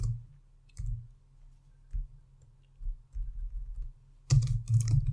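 Computer keyboard typing in bursts of soft clicks, a few isolated keystrokes spaced out at first, then a quicker run of taps near the end, close and fairly quiet with no talk.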